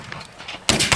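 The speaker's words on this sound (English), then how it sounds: "now they're doing what's known as firing by file" Civil War reenactors of a Pennsylvania and California regiment fire muskets by file at Gettysburg; a sharp, loud blast bursts out after a quiet stretch of outdoor murmur, with a second report close behind.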